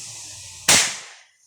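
Improvised carbide cannon (boga) fires one sharp, loud bang that cuts through faint background noise and decays over about half a second.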